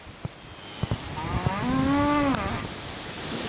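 A cow on a farm lets out a single long, loud moo lasting about a second, close to the microphone, with a few brief knocks before it and steady wind noise throughout.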